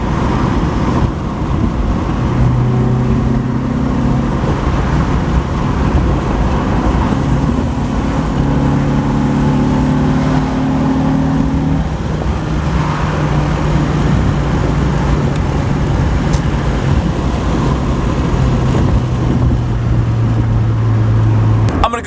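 A Honda B20 VTEC engine idles while warming up, a steady, loud, continuous drone with smooth humming tones that hold and shift slightly in pitch, heard close up without any talking.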